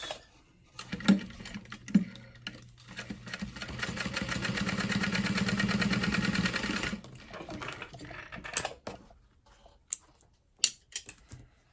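A sewing machine top stitching a small clutch wallet runs in a steady rapid whir for about three seconds, framed by softer clicks and handling of fabric before and after.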